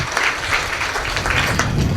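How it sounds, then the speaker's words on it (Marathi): An audience at a Marathi devotional kirtan program applauds, a dense, steady wash of clapping from many hands that stays loud throughout the short stretch. "टाळ्या वाजवा एकदा जोरदार"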